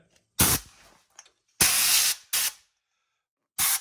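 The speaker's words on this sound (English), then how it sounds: "What I like to do next is just get some compressed air and just kind of" Compressed air blown through a Polaris Ranger 150 brake to clear out debris, heard as several loud, close hissing blasts of varying length separated by silence.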